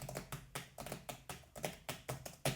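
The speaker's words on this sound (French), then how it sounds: "La frappe est très rapide et peu bruyante." Fast typing on a Logitech MX Keys keyboard with curved keys, a quick run of soft, close tapping strokes in an even rhythm, fairly quiet and low-noise, with no talking.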